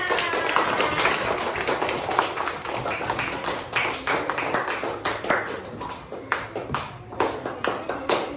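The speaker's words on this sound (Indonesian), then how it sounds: "Beni telah tepuk tangan." A child claps hands in a classroom lesson setting, a run of quick, sharp individual claps spaced irregularly over several seconds, close and moderately loud with slight room echo.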